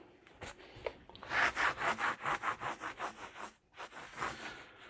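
A Magnacut steel chef's knife drawn in quick rhythmic strokes across an oiled coarse Norton Crystolon stone, about a dozen close, soft gritty rasps in a steady back-and-forth pattern.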